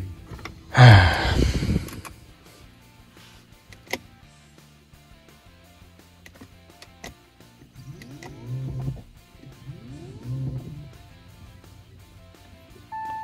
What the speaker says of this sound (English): I hear the pump